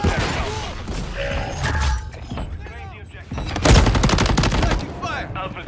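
Gunfire crackles in bursts during a Modern Warfare III ground war match, with rapid automatic fire and heavy impacts mixed with mechanical game sounds and radio-style voice callouts.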